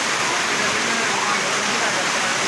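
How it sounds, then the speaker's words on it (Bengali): Heavy rain pours down steadily over a rural wetland, a dense, loud continuous hiss and roar of water with no pauses throughout. "এখন কিন্তু হেভি রেন হচ্ছে হেভি রেন প্রচণ্ড বৃষ্টি"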